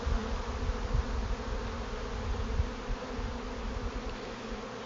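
Honeybees buzz steadily around an open hive during an inspection, a dense continuous drone with a few nearer passes, moderately loud and unbroken.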